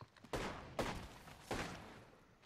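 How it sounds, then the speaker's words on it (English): Three separated heavy gunshots in the video game Apex Legends, each a sharp loud crack with a decaying tail, spaced unevenly over a quiet background. "Opening fire."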